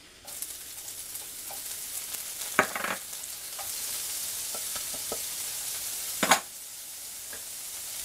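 Minced ginger and green onions sizzle in a hot stir-fry pan for chicken stir fry, a steady crackling hiss with a few sharper stirring clatters, close and alone with no talk.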